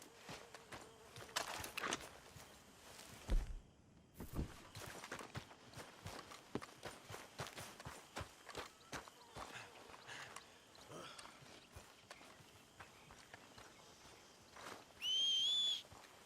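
Horse hooves clip-clop steadily on the ground in the Red Dead Redemption 2 game, with footsteps and scattered clatter, then a sharp rising whistle near the end, fairly close and clear.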